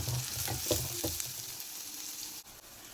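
Small pieces of chopped garlic frying in a pan while being stirred, a soft steady sizzle with a few quick scraping strokes early on, fairly quiet and close.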